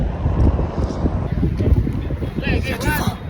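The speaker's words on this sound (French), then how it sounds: "Il y a beaucoup de vent." Strong wind buffets the microphone on a San Francisco pier, a constant roaring gust that continues under French conversation.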